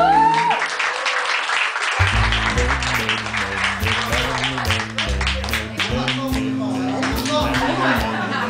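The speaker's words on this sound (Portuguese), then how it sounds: "Eu até peço uma salva de palmas para as loiras que estão aqui presentes." Audience applause at a live comedy show, clapping mixed with laughter and a loud voice talking over it, while music with steady beats plays underneath.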